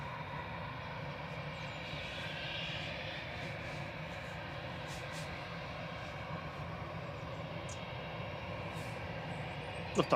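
Jet engines of an 18-year-old Lufthansa Airbus A319 at Manchester Airport, a faint, steady distant roar holding throughout, with no talking.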